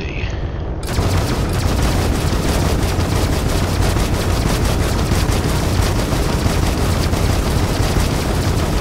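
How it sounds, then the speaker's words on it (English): Spaceship weapons firing in the space game Starfield, a dense continuous barrage of rapid shots and blasts that runs loud and steady for several seconds after a brief quieter opening. "These are my more powerful weapons. These are ones I'm going to be able to fire."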